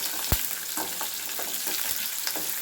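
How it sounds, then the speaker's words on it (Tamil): Onions fry for a brinjal stir-fry, with a steady, dense sizzle in the pan that continues unbroken and is punctuated by a few soft stirring clicks up close. "வெங்காயம் வந்து வறுப்படணும்"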